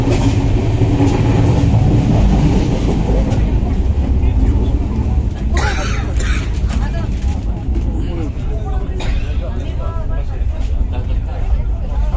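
Loud rumbling of a train running on rails fills the clip, a constant low roar with rattling and clanks, while people talk nearby underneath.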